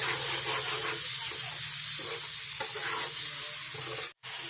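Fish curry with tomato sizzling over a low flame in a frying pan while it is stirred. The hiss is dense and continuous, with soft stirring strokes, and it cuts out abruptly near the end.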